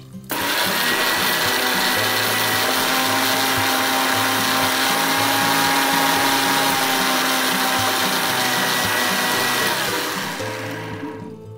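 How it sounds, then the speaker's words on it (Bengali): An electric kitchen blender churning fish with a little water and turmeric powder for aam katuli: a loud, steady motor whir that starts abruptly, runs for about ten seconds, then winds down at the end, with no talking. "এইবার ব্লেন্ডারটা চালিয়ে দিই।"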